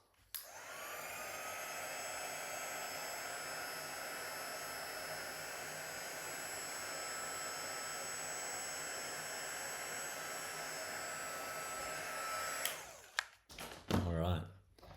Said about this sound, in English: And heat shrink that in place.